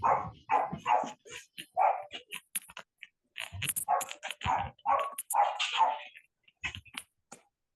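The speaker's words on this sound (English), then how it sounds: "The dog has stopped barking." A dog barks repeatedly in the background of an online meeting, a run of sharp, close barks in uneven bursts with brief pauses, coming through the call's microphone with no one speaking over it.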